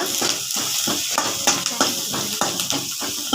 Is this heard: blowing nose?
no